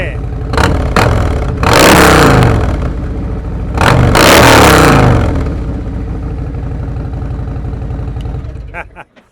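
A 2024 Harley-Davidson Street Glide fitted with a Tab Performance exhaust, close up and loud, revs hard twice in deep V-twin blasts, settling between them into a lumpy, rumbling idle before cutting off.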